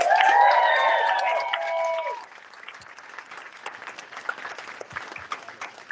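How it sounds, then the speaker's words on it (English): An audience applauds at a live talk event, loud and dense for about two seconds alongside a tonal ringing, then thinning into quieter, scattered clapping and crowd murmur. "One more round of applause for Sidra."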